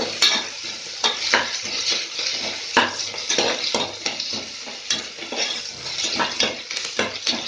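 Onions and green chillies are tossed into hot oil with cinnamon for a biryani and stirred steadily. A bright, crackling sizzle is broken by repeated spoon scrapes and clanks against the pot.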